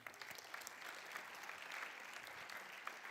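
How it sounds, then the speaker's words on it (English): A congregation at Unity North applauds four people holding space during a morning gathering: a steady, even round of clapping that sounds soft and distant, with no voices standing out. "Please give them a round of applause."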